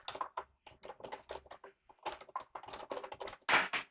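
Fingers typing a task into a computer keyboard for a reminder app, a quick run of close, crisp key taps in irregular bursts with short pauses, ending in a louder cluster of strokes.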